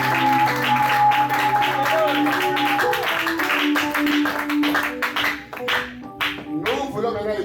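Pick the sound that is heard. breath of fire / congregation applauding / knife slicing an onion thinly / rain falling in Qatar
congregation applauding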